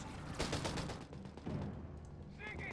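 Rapid bursts of British tank gunfire in a Company of Heroes 3 battle, a dense crackle of shots and impacts repeating over nearly three seconds, loud and close with some mechanical clatter.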